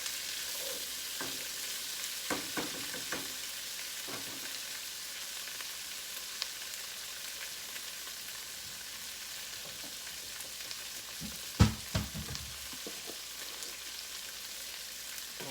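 Green beans fry in a pan with a continuous soft sizzle, broken by scattered scrapes and clicks of a utensil stirring them, including one louder clatter partway through.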